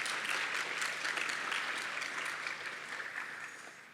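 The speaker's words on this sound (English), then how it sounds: "So give yourselves a round of applause." Audience at a youth program opening ceremony applauding, a steady wash of clapping that gradually fades toward the end.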